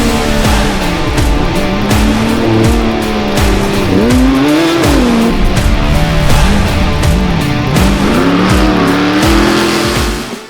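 Off-road rally race cars at the Bencubbin 2022 event speed along a very fast track, engines loud and close, revving and swelling in pitch as they pass, with tyre noise and gravel spatter, no voices.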